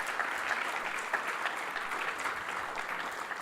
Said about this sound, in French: pour qu'on l'applaudisse